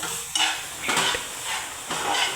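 A spoon works through a spiced veg cutlet mixture seasoned with garam masala, giving three scraping, rustling strokes against the pan or bowl with quiet pauses between them.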